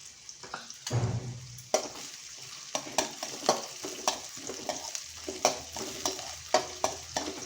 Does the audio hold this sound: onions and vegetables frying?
yes